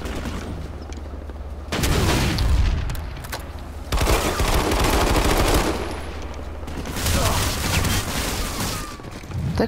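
Gunfire in the PlanetSide 2 video game comes in several loud, dense bursts of rapid automatic shots, separated by brief lulls of low rumbling.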